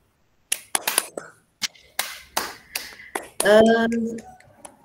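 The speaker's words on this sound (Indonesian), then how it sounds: "Kita beri aplaus dulu untuk kelompok 4." A handful of people applauding a presenting group at an online teachers' meeting: sparse, separate claps close to the mic, irregular and thin rather than a full crowd, ending in a short burst of muffled noise.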